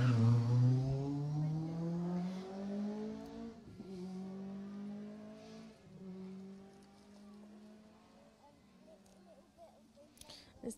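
Rally cars at the Jersey Rally roar in with a loud, droning engine note that sweeps downward as they slow and pass, fading to a steadier rumble with faint clatter near the end.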